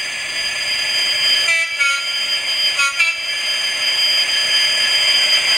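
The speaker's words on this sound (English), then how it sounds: "What we've got to do now is push number 1 to see if the engine works." A sound-equipped model locomotive plays its engine sound through a small standard speaker, a bright steady electronic hum broken by two short horn toots.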